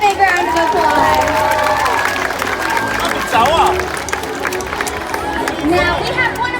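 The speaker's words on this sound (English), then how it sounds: "Let's give him a big round of applause." Crowd at a SeaWorld San Diego orca show applauds and cheers for a volunteer, with clapping and whoops under a lively outdoor stadium din, voices and chatter mixed throughout, plus a whistle-like tone rising midway.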